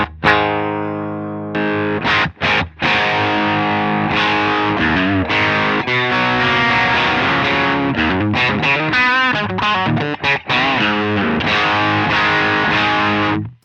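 Electric guitar through a Pugilist distortion pedal plays loud, sustained classic-rock rhythm chords with a few brief choppy stops, thick and gritty throughout.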